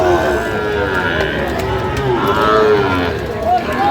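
Many cattle low and moo loudly at a busy livestock market selling Sahiwal cattle, with overlapping calls over steady crowd bustle and people talking nearby.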